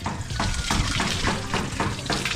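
Water gushes steadily from a newly repaired faucet during laundry, a loud continuous splashing stream with rhythmic surges as clothes are washed beneath it.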